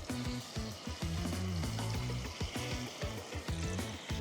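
Battered bombil fish fries in hot oil, giving a steady, close, crackling sizzle with busy bubbling throughout and no talking.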